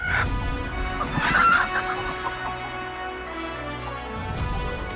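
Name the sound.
chicken clucking in royal court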